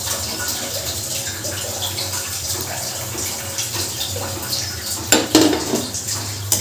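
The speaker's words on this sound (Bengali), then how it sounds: "পোস্তর বাটি ধোয়া জলটা" Rinse water from the poppy-seed paste bowl poured into a pan of katla fish kalia, a steady near wash of trickling liquid with a brief louder splash and clink toward the end.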